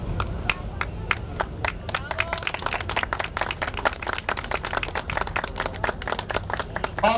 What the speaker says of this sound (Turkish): alkışlarla anlıyoruz Çiğdem ve Zeynep'i.